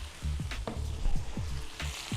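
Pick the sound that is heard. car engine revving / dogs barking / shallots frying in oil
shallots frying in oil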